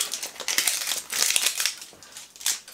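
Crisp plastic packaging of a collectible pop vinyl figure crinkles and crackles up close in repeated bursts as it is torn open and unwrapped, with no talking.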